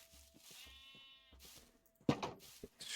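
Video-game sheep bleat several times in short, wavering calls over a quiet background, ending with a louder burst of other game noise.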